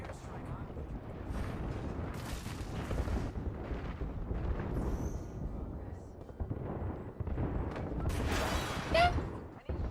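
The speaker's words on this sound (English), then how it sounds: "Airstrike on." Airstrike explosions in a video game rumble and boom in heavy waves, with dense low blasts and crackling debris, while a person talks through parts of it.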